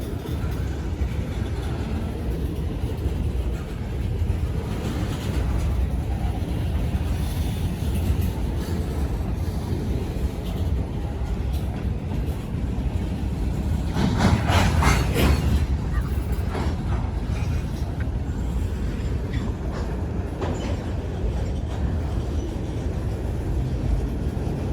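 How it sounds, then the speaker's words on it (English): Two freight trains pass each other on the 1929 C&O bridge over the Ohio River, a long steady rumble of rolling cars with clanks and a swell of louder grinding midway, heard from a distance. "we got two trains passing now"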